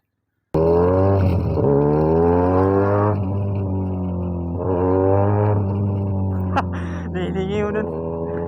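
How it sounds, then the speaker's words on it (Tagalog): A Benelli 302S motorcycle drones steadily on a test ride, its engine pitch rising and falling through two revving climbs, with a brief sharper shift near the end. "Ayos ng motor na to."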